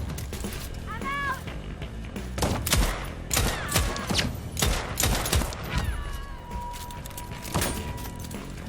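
Pistol fire in the video game Deathloop: a string of sharp, loud gunshots in irregular bursts, mixed with game music and effect tones, and a voice briefly audible between shots.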